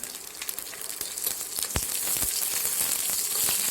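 Curry leaves and dried red chillies fry in hot oil in a pan for puli inji, giving a steady, close crackling sizzle with a couple of sharper pops.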